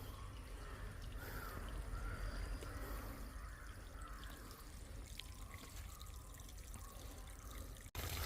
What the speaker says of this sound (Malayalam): നമ്മുടെ പ്ലാവിന് വെള്ളം ഒഴിച്ച് കഴിഞ്ഞു